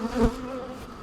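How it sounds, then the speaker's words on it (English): Steady, close buzzing of honeybees droning continuously around an opened hive, with a brief low thump near the start. "Always gonna have a few bees that'll stay behind."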